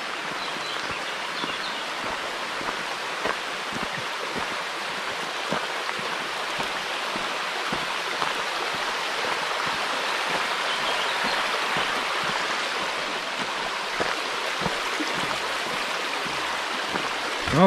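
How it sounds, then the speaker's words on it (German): Water from the Wedenbach tufa waterfall in the Schauertal near Streitberg rushes and splashes steadily, a dense, even wash with no break across the whole stretch and no voices. "ihr Wasserfall."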